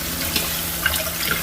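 Water runs while poha is rinsed and drained in a sieve in a home kitchen, a steady close splashing trickle with small irregular spatters, brief and without voices.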